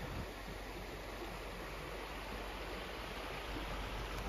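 A creek in the California redwoods runs as a steady, broadband rush of flowing water, constant and fairly near throughout with no breaks and no voices.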